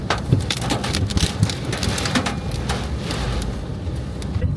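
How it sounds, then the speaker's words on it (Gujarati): Steady rain falls outdoors by a village gate in Ahmedabad during a windy, dark storm, a dense continuous hiss with scattered drop patter throughout. "અને આ વરસાદ ચાલુ થઈ ગયો છે."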